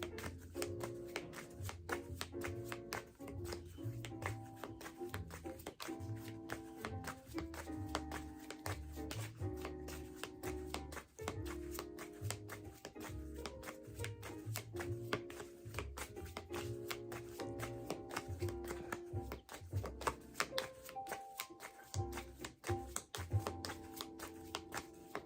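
Tarot cards being shuffled by hand in a steady stream of rapid riffling taps and soft slaps, continuing close up across the whole stretch with dense rhythmic texture.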